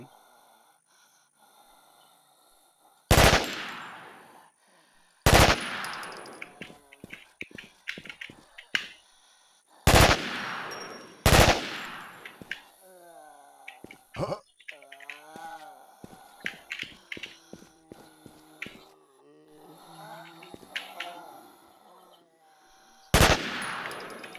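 Sharp, loud single gunshots in the online survival video game Infestation, spaced irregularly several seconds apart, with quieter clicks, footsteps and rustling game sounds between them.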